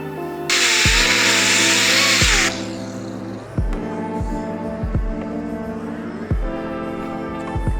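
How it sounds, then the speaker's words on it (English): A Scotch-Brite wheel on a power tool strips paint from a Ferrari 308 GT4 bonnet, a loud sustained hissing whine for about two seconds over a steady motor hum, then the tool runs on with a lower, droning tone. "In these areas here, we're using a Scotch-Brite wheel"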